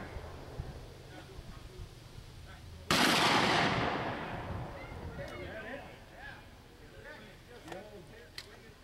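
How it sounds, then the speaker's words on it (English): A single gunshot at the wing target in a shooting contest at the 161st Hollandtown Schutzenfest, one sharp loud crack with a decaying echo over steady crowd murmur and background chatter. "Dick Iding shoots the wing."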